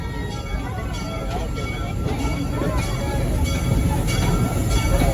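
Serengeti Express train rolling along its route toward the Congo station, a steady low rumble of rail cars with faint rhythmic wheel clatter that grows slightly louder, under a loudspeaker announcer's voice.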